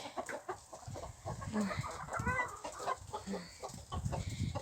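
A broody hen on a village farmyard clucks in short low bursts among other chickens, close and moderately loud, with busy rustling and farmyard background noise.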